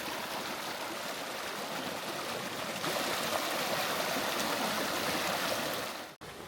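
A creek flows steadily through a hot, sunny canyon, its close, continuous rushing and burbling holding an even level throughout with no voices.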